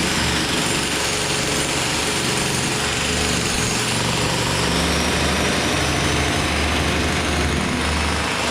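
A powered drill or breaker bores through a concrete house foundation with a loud, continuous, harsh rattling grind that holds steady for over eight seconds, close up and with no talking.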